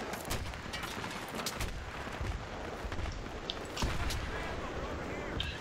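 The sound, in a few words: suppressed MG36 burst fire in video game Battlefield 3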